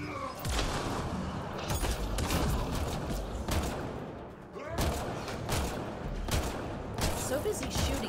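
Sustained gunfire and heavy weapon blasts in the sci-fi shooter Mass Effect Andromeda, dense overlapping shots with brief lulls, loud and close, with an artillery-like combat din throughout.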